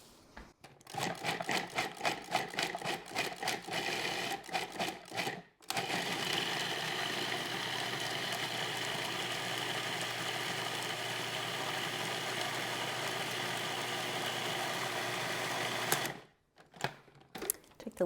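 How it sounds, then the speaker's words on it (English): A food processor blends cashew pesto with a steady, loud motor whir lasting most of the stretch, bracketed by brief clicks and pulses at the start and a short stop-and-start near the end. "we're going to turn our food processor on after I plug it in"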